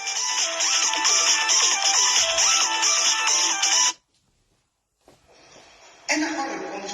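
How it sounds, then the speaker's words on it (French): A phone ringtone plays as a repeating melodic pattern for several seconds, then cuts off abruptly; after a silent gap, faint sounds and a brief burst of other audio follow. "son téléphone sonne"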